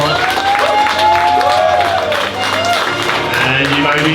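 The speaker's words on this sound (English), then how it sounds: "let's have a massive round of applause to show our love and support" Wedding guests applaud and cheer together in a sustained, loud burst, with voices and whoops mixed through the steady clapping.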